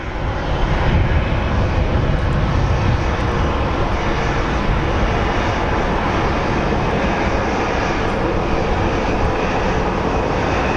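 A Southwest Airlines airplane at Phoenix Sky Harbor airport produces a loud, steady jet engine roar, broadband and unbroken for the whole stretch.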